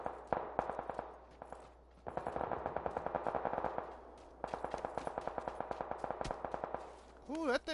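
Video game crossfire, with bursts of rapid automatic gunfire in fast rhythmic volleys, loud and near, broken by short pauses and a few single shots.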